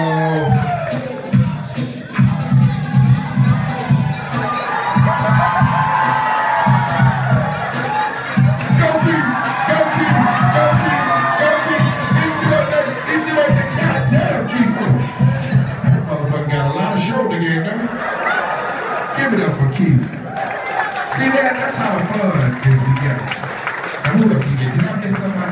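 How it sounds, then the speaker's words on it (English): Comedy club audience cheering, whooping and applauding for an act, a loud, continuous crowd roar with clapping and shouts layered together, sustained throughout with some laughter and voices mixed in. "give a strong round of applause for my man Keith"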